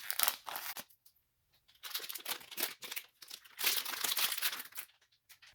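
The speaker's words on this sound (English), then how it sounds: "Open one of the black ink colors and pull it out of the plastic bag." Epson printer ink bottle pulled out of its plastic bag, with close crinkling and rustling of plastic in irregular bursts broken by brief quiet gaps.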